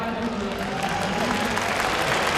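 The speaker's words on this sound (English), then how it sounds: "so a round of applause for..." Audience applause at the Intel Extreme Masters Katowice 2013 esports tournament in Poland, a dense, steady wash of clapping from a large crowd, loud and continuous throughout with a faint hint of voices mixed in.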